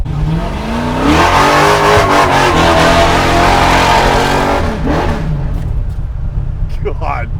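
850 hp 632 cubic inch V8 Chevelle launching, a loud close roar surging as it accelerates away, then fading into distance with people talking near the end.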